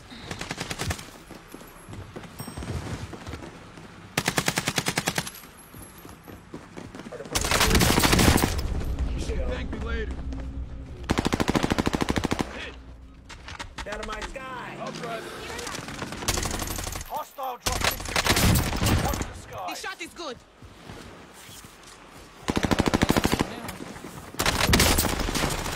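AK-47 fire in a multiplayer video game crackles in loud bursts of rapid automatic shots, separated by quieter stretches in which voices talk.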